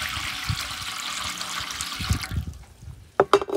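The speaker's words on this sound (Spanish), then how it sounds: "Tengo también alrededor de 2 litros de agua." Water splashes and gurgles steadily into a metal tamale steamer pot, then trails off into a few sharp clinks and knocks near the end, close and alone without talk.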